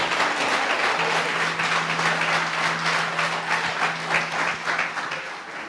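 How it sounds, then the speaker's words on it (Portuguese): A church congregation applauds during a Sunday service, giving a sustained, even wash of clapping with a low steady hum beneath it and no talking. "Uma salva de palmas ao Senhor."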